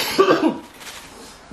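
A person coughs hard in a music recording studio, a rough burst of hacking coughs close to the microphone, then fading off.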